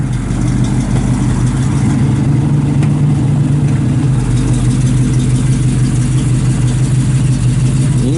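A 1966 Chevy II Nova's engine idles steadily, its deep, even exhaust rumble loud and close and holding constant with no voices.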